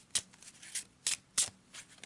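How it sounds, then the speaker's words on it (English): A deck of cards for the Arkham Horror board game is shuffled quietly in several short, crisp riffling bursts with brief pauses between them, close by and with no talking. "Give it a quick shuffle."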